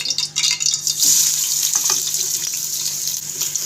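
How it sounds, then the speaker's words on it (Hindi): Chopped onions hit oil in a hot pressure cooker and sizzle loudly, a steady hissing fry close up with a few light clinks, no voices. "प्रेशर हमारा काफ़ी गर्म था तो इसी टाइम में इसमें ये प्याज ऐड कर देती हूँ"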